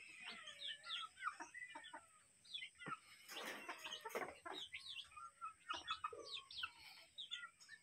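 Domestic chickens kept at home with small chicks cluck and chirp nearby, a busy run of overlapping clucks and squawks at a fairly low level with no talking.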